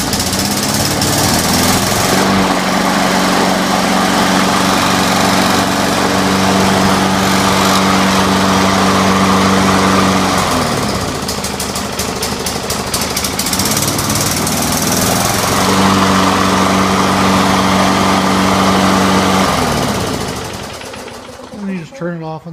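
A push lawn mower engine converted to run on propane idles steadily, with a continuous loud mechanical drone that dips and returns, while someone talks over it.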